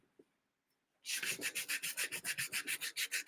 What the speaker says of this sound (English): So that's what I'm putting it down now to do a thorough sanding of the face.